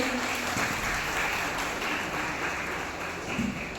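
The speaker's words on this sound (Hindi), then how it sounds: "एक बार जोरदार तालियों से इनका स्वागत करेंगे।" An audience at a college Independence Day and Janmashtami celebration in Ambikapur applauds to welcome guests. The clapping is fairly loud and continuous, with a few brief voices.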